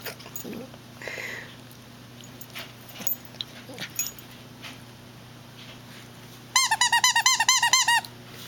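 A dog plays with a squeaky shark toy, with soft rustling, scattered faint noises and a brief whimper early on, then a rapid, close run of about ten sharp squeaks near the end.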